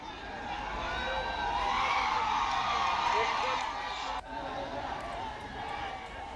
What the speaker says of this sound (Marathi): आता तिकडे जल्लोष सुरू झालेला आपल्याला बघायला मिळतोय